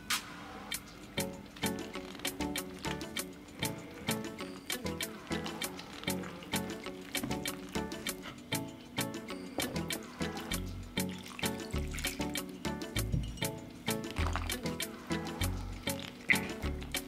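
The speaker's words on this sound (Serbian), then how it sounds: "I zamesiću polako testo." Dough of flour, salt and water being kneaded with a wooden spoon in a bowl for pie, giving steady repeated wet squishing and knocking strokes, close and alone without talk.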